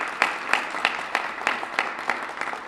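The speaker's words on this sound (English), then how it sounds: "I think that that's a cause for a round of applause for all of you" A small audience at a Municipal Equality Index launch event in Milwaukee claps in a steady, fairly quiet round, with distinct claps spaced evenly over a soft background.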